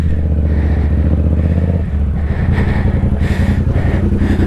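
A stunt motorcycle rides down the road with a loud, steady engine drone that shifts in pitch partway through, heard up close and continuous throughout.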